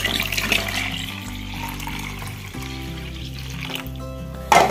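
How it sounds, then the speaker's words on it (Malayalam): Water poured from a tap or jug into a one-litre paint bucket, a steady splashing and filling stream close by that continues with little change, followed by a brief louder splash near the end. "ഇതിനകത്തോട്ട് നമുക്ക് നിറയെ വെള്ളം ഒഴിച്ച് 1 ലിറ്റർ വെള്ളമാക്കി എടുക്കാം."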